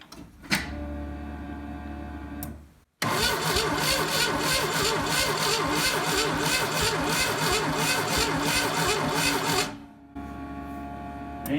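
A 1984 Pontiac Fiero engine cranks during a spark test: a brief crank, then a sustained rhythmic starter-driven chugging for about seven seconds, followed by another short crank, close and clear.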